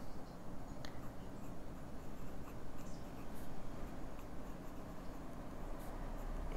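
An Opus 88 Mini Pocket Pen with a broad nib writes on paper with a soft, continuous scratch, faint and close, under a steady background hiss with no talking.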